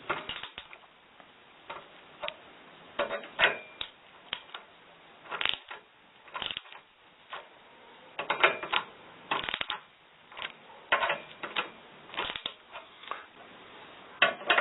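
A crimping tool squeezes a Nicopress sleeve onto a cable with repeated mechanical clicks and ratcheting snaps in uneven bursts, close and moderately loud.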